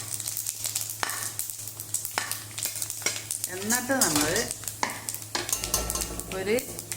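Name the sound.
fennel seeds sizzling in coconut oil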